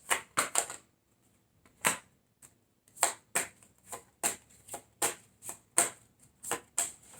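Tarot cards are shuffled and flicked down, sharp papery snaps and riffles coming in quick irregular bursts close to the listener, with a short quiet pause early on.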